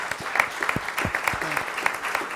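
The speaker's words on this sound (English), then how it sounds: "Round of applause" Clapping from the attendees of a school district governing board meeting, a moderate patter of applause with a few voices murmuring underneath.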